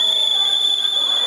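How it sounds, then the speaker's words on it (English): A whistle blown to call the attention of deaf children at a storytelling installation split into six sections gives a steady, piercing high tone that holds for the whole moment, with voices faintly underneath. "Each 5 minutes, we blow a whistle and blink a light to call the attention of the deaf children."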